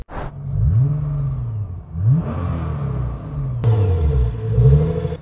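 A 2017 Nissan GT-R with 816 hp revs repeatedly, its engine note sweeping up and down in several loud, close bursts with a deep rumble between them.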